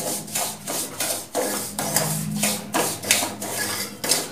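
A spoon scrapes through moong dal halwa in a pan, a rhythmic rubbing rasp repeating about every half second, close and steady with no voices.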